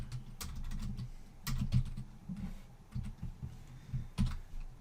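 Someone types a command on a computer keyboard in a Linux terminal, with soft, close key taps in an uneven rhythm running steadily throughout, some strokes more pronounced than others.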